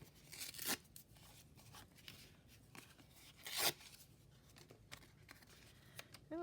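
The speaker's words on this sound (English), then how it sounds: "I am going to just rip a little bit more" Blue material being ripped off by hand, two sharp tearing bursts separated by softer rustling and handling noises, close and fairly quiet.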